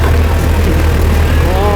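A tractor engine drones loud and steady from inside the cab, a constant low hum with people talking over it.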